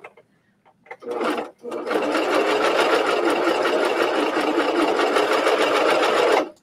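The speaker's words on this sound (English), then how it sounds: "So the cover stitch, I already have it set for double." A cover stitch sewing machine set for a double stitch runs on fabric for a bathing suit coverup, starting with a short burst, a brief pause, then a long steady loud mechanical chatter with no talking.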